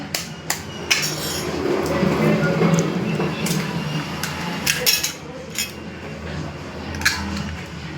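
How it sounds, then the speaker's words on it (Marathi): An egg is cracked into a bowl and whisked with chili powder, salt and turmeric in a home kitchen, giving sharp clicks and taps of utensil against dish over a steady scraping mix, close and fairly loud. "तिखट टाकलं मीठ टाकलं हळद टाकली मिक्स करते आणि आता हे फोडून घेते अंड"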